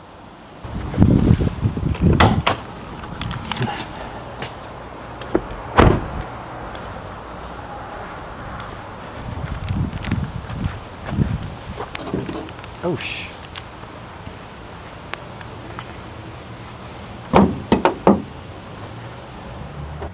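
Opening the hood of a 2017 Lexus LS460 outdoors: a few sharp knocks and thuds of the latch and panel, with wind noise, footsteps and a brief voice between them.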